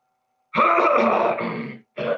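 A man gives a loud, close, rough cough or throat-clearing burst lasting about a second, followed after a short gap by a second shorter hack.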